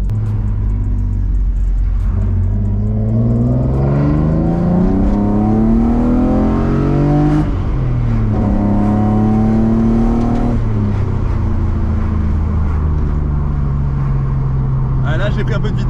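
A BMW E36 fitted with individual throttle bodies accelerates nearby, its engine note rising through the revs, dropping at a gear change and climbing again, loud and steady with no talking over it.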